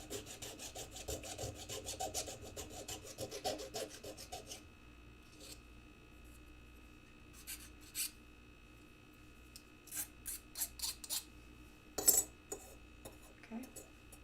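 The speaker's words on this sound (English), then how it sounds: "Now we'll do a little filing. To take off some of these edges." A file rasps quickly over the edges of a scrap-built piece, starting with a dense run of close strokes and then giving way to sparse scrapes and clinks.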